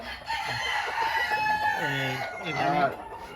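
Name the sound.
bantam chickens clucking and rooster crowing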